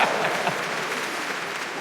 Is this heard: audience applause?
yes